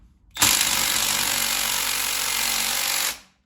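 A stubby impact wrench hammers loose a chassis bolt on a 1959 Apache restomod, one loud continuous rattling burst of about three seconds that starts abruptly and cuts off, with no talk.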